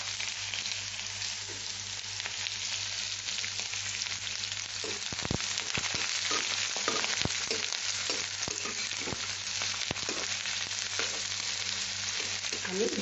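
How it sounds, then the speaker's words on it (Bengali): Whole garam masala spices crackle and sizzle in hot oil for hilsa pulao, then onion goes in, a steady frying hiss with sharp scattered pops, close and continuous. "এই যে গরম মশলায় এটা ফোড়ন দিয়ে এখন এটা চটপট করছে"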